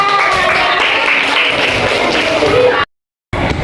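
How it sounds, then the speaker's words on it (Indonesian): A crowd claps loudly and steadily, then a brief dropout of silence interrupts before the applause resumes. "Tepuk tangan."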